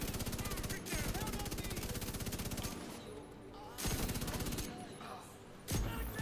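Rapid bursts of automatic gunfire in The Division 2 crackle in sustained volleys with brief pauses between, loud and close, over a gameplay soundscape.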